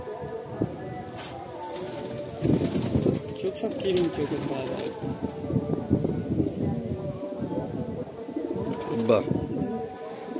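Male Napta pigeons coo softly in a pigeon-sale loft, their low murmuring calls mixed with steady background noise while people talk over them throughout.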